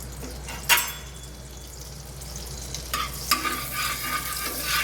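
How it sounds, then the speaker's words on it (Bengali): Butter melting into a little oil in a pan after fish was fried, a soft steady sizzle with a few sharper crackles and spatter bursts near the middle and end. "মাছ ভেজে তুলে নিয়ে আমি এখানে অল্প তেল দিচ্ছি, দিয়ে দিচ্ছি একটু বাটার।"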